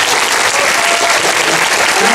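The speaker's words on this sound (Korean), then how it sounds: "동준호 감독님 다시 한번 뜨겁게 박수를 해주십시오." A packed audience at a special screening of Okja applauds director Bong Joon-ho, with dense, loud, continuous clapping throughout that neither builds nor fades.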